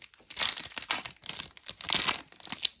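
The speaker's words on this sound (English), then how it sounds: "I'll rip into this first pack first." A trading card pack wrapper is ripped open up close, with loud crinkling and tearing bursts running through the whole stretch and no talking.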